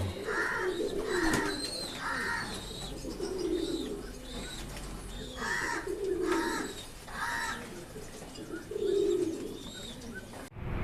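Repeated soft coos of frill and long-face pigeons in short bursts, with some chirping mixed in, fairly close and steady throughout.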